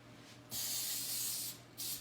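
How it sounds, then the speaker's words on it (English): Two bursts of aerosol cooking spray onto a pan, a long hissing blast followed by a shorter one, close and clear with nothing else around. "we also need to spray our pan with this coating stuff."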